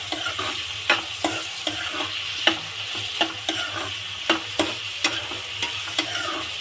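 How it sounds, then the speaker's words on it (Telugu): Onions fry in a pan for chicken curry under a steady sizzle, with a spoon scraping and stirring in quick, regular strokes about twice a second, close up. "వేసుకున్న తర్వాత ఒకసారి బాగా మిక్స్ చేసుకోవాలి"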